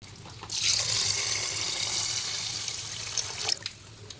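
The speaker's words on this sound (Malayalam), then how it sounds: "ഒരു രണ്ടേക്കാൽ കപ്പ് വെള്ളം ഒഴിച്ച് കൊടുക്കാം" Water is poured from a cup onto rice in a pressure cooker for coconut rice, a steady close splashing gush that starts abruptly, runs for about three seconds and tapers off with a few final drips.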